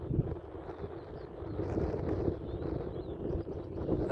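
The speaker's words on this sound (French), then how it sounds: "il y a du vent, j'espère qu'on m'entend" Strong coastal wind at Tarifa by the Strait of Gibraltar buffets the microphone, a continuous low roaring rumble that swells and gusts throughout, with no speech.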